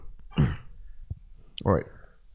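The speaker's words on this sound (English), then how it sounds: "the coughing's gonna make me get hurt" Two short, harsh coughs or throat-clearing bursts, close to the microphone, separated by a pause with a faint click between them.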